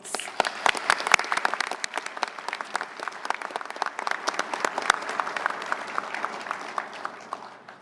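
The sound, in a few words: audience round of applause for sailors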